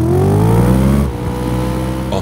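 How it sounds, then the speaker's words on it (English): Car engine revving hard, its pitch sweeping upward over about a second, then easing back to a lower steady idle-like drone; loud and close, with no talking. "let's rev."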